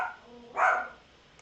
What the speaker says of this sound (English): My girlfriend's puppy's making a little bit of racket in the back here.